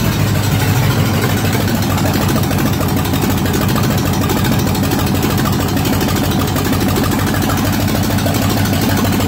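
A 289/302 roller V8 engine idles steadily on its first cold start, a loud, continuous low rumble with a constant vibrating drone that holds even throughout, with no talking.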